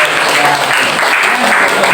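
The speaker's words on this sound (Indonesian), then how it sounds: "Ya, kita berikan aplaus." A classroom group claps steadily for about two seconds, a dense, loud, continuous patter of many hands close by with no break.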